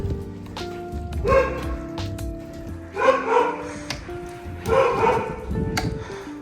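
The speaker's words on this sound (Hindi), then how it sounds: "तुम्हारा तो कालू भौंक रहा है।" A dog on a mountain-biking trip barks in three loud, close bursts of repeated woofs, with gaps of lower background noise between them.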